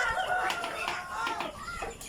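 Ducks in a flooded yard give loud, close, hoarse quacking calls in quick overlapping bursts that carry through the whole moment.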